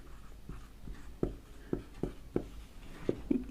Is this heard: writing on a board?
yes